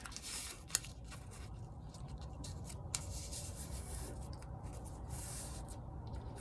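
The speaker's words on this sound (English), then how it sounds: "I'm going to cut that in half" Paper being cut in half with scissors for a fold-out garden mini journal, giving a quiet, steady rustling snip and rub with a couple of small sharp clicks, close up and without talk.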